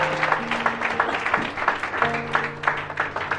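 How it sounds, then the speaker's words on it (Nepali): A church congregation claps together after a call to applaud the prophet, a dense, rhythmic burst of hand claps that rises and falls in waves, with faint held tones underneath. "लागि ताली बजाइदिनुहोस्।"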